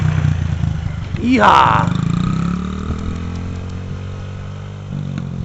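A child's new mini bike runs with a steady engine drone throughout, rising briefly in a louder revving surge before settling back, while people talk and cheer over it.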